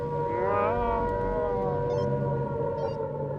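An air raid siren sounds from a tower, a steady wavering tonal wail whose pitch rises and glides, heard at moderate level without any talking.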